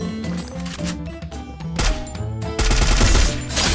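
Rapid gunfire bursts in a shooting video game where a bag called Vempire Wings is being tried out, loud and dense with game music and effects blended in, and no voices over it.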